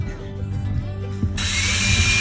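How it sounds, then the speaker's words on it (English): A power drill bores a hole through a nut on a Land Rover camper build. A low hum gives way after about a second to a loud, steady, close-up grinding whir that lasts to the end. "now I'm just going to drill a couple of holes"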